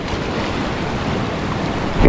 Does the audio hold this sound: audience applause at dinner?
no